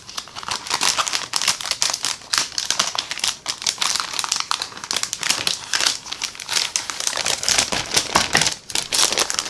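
Paper pad crinkling and rustling as sheets are slid back under a flap, a dense, continuous close-up crackle with no voice over it.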